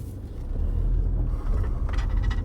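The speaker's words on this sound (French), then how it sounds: "Il passe un tracteur, là." A tractor passes by outside a home near Marseille, a low rumbling engine swelling close and loud and then fading slightly, with a brief rattle near the end.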